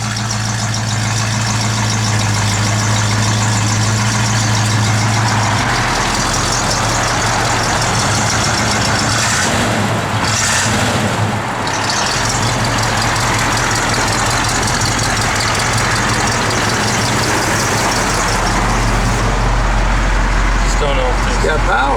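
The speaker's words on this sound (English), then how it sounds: "Little cackling exhaust to it." Engine of a 1973 GMC Jimmy Sierra idling steadily with a slightly cackling exhaust, a continuous low rumble throughout, with someone talking over it.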